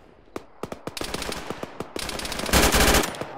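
Video game gunfire in ShackTac: scattered single shots build into bursts, then a dense stretch of sustained automatic fire near the end, loud and close with no talk.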